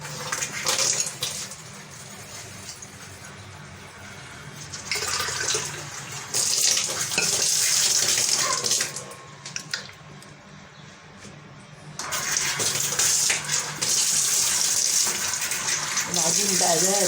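Warm tap water pours in several surging bursts while flour and yeast wait for hawawshi dough, Alexandrian style, the gushing rising and falling at close range with brief quieter gaps between.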